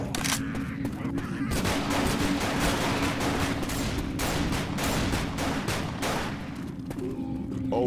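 Rapid, dense gunfire from an auto shotgun in Left 4 Dead 2, loud and continuous with blasts running together over busy game noise.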